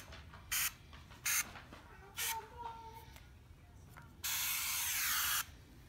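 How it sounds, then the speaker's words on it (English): Clear sunscreen spray is spritzed onto white leather in three short hissing bursts, followed by one longer sustained spray, all close and distinct over a quiet background. "spray it all over the mark"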